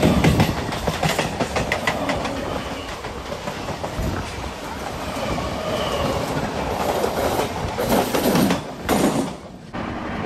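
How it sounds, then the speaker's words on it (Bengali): A Howrah–Dhanbad Black Diamond Express with new LHB coaches runs at about 110 km/h on the Bardhaman main line, heard from inside as a steady loud rumble with rhythmic clickety-clack of wheels over rail joints. "আর এখন আপাতত আমাদের যে ট্রেন এই বর্ধমানের মেন লাইনে কিন্তু আপাতত এরকম স্পিডে চলছে, 110-এর কাছাকাছি স্পিডে"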